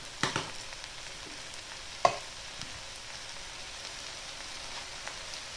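Chicken fajitas sizzle quietly in a hot pan at high heat, a faint steady crackle with a few sharp clicks and stirring knocks standing out near the start and middle.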